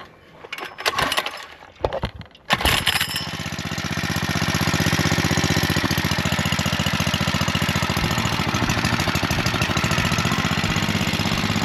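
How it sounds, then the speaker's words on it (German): A small engine, apparently a pull-start machine, is yanked a few times, catches with a bang, then settles into a loud, steady idle running close by, with no talking. "Meistens lasse ich es so im Leerlauf."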